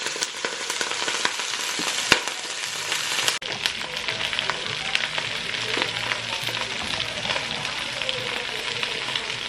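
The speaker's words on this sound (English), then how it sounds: "So we're going to put the cabbage in the pot." Chopped, washed cabbage cooking in a pot, a steady loud sizzle and crackle throughout with a sharp clatter as more is added partway through.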